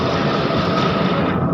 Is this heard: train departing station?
yes